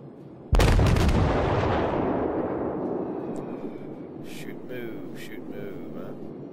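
A heavy cruiser New Orleans fires a main-gun volley in the naval game World of Warships: one sudden, loud blast that rolls away into a long decaying rumble, with faint sounds following later.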